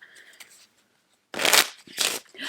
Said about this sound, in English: Let's shuffle that one in there real good.